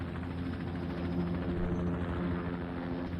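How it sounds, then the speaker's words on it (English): Helicopter rotor and engine noise from the visual novel game Aokana forms a steady, low, droning hum that is moderately quiet and continuous. "Sounds like they're on a helicopter"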